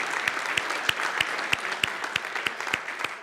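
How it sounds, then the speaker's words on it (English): Audience at a spring convocation ceremony gives a short round of applause, a dense crowd of clapping hands, loud and close, with sharp regular accents throughout. "let's give these people a round of applause"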